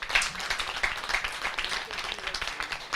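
A room of people claps steadily for a few seconds, a dense patter of applause at moderate volume with no voices.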